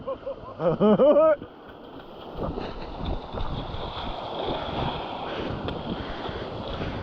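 Wind gusts across a kitesurfing beach during a freeride kite test, a steady broadband rush with rumbling microphone buffeting, after a brief loud burst of voices at the start.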